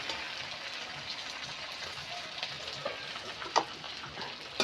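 Chicken pieces fry in a pan for chicken roast with a soft continuous sizzle, quiet and close, with a few light clinks of utensils toward the end.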